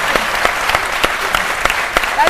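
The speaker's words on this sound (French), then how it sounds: "Ça s'applaudit" A studio audience claps for a television midday show, giving dense, steady applause with sharp individual claps standing out across the clip and a voice faintly audible beneath.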